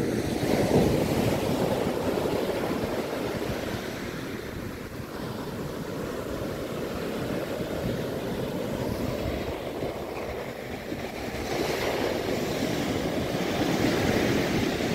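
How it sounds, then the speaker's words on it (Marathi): Steady roar of surf washing in continuously at the sea near Mithbav, a broad rushing noise with gentle swells in loudness and some wind buffeting the microphone; no voices. "काय लाटा उसळतात ते लोक, जबरदस्त."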